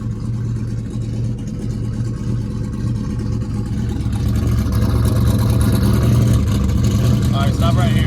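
A 106mm turbocharged Buick Regal drives on the street, its steady engine drone rising in loudness partway through, with people talking over it.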